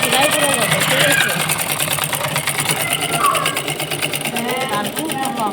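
A sewing machine stitches elastic onto the waistband of palazzo pants, running in a fast continuous whirring rhythm while someone talks over it.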